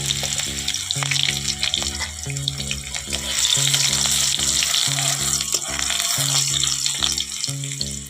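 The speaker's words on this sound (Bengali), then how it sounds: "দেখো পেঁয়াজটা হালকা ভাজা হয়ে এসছে।" Chopped onion frying in oil with dried chilli, a steady bright sizzle over a rhythmic melodic background, continuing evenly throughout.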